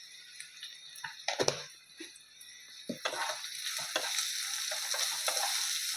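Potatoes with Kashmiri chili powder and kitchen spices fry and are stirred in a pan, a soft continuous sizzle broken by a few scraping stirs and light clinks, quiet and close throughout.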